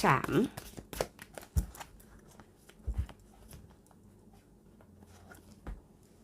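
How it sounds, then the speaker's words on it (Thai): Tarot cards being shuffled at a reading, giving dry papery riffles and soft slaps in short bursts with pauses between them, close by and moderately loud, with no talking. "เดี๋ยวอาจารย์ขออนุญาตสับไพ่เปิด ดูพลังงานไพ่ของท่านนะคะ"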